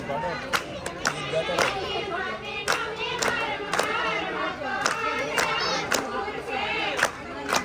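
A village crowd claps hands in quick, irregular bursts of sharp slaps, mixed with loud shouting and chanting voices close by.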